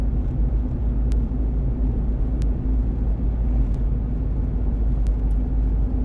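Car driving along a road toward Karaganda at about 60 km/h, a steady low rumble of engine and tyres heard from inside the cabin, with faint brief clicks and no talking.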